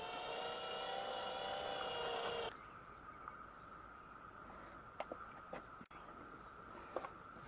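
A small drill bit, about 2.5 to 3 mm, boring pilot holes for rivets in a Land Rover Defender whines steadily for a couple of seconds, then cuts off, leaving a quiet workshop with a few faint ticks and taps.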